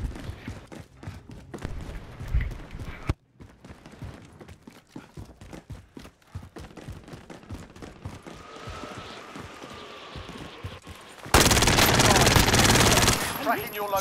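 Gunfire in the video game Warzone: rapid volleys of sharp shots crackle under and between French speech, ending in a loud burst of heavy, continuous firing.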